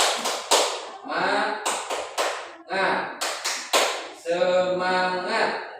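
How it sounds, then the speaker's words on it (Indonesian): A school class does the rhythmic 'tepuk semangat' clapping, with short groups of sharp claps in a patterned beat alternating with shouted chanting voices. "Bapak di sini mengajak kepada kalian untuk tepuk semangat"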